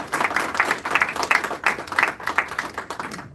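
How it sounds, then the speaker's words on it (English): An audience at a formal event gives a short round of applause, a loose patter of several people clapping at moderate volume that tapers off near the end. "So I think they deserve a clapping as well."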